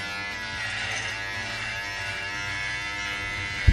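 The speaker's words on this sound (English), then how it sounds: "I'm just going to de-thicken them and then I'm going to shave them." An electric trimmer buzzes steadily and continuously while thinning a thick growth of beard whiskers, a close, even motor drone with no talk over it, ending in a short sharp knock.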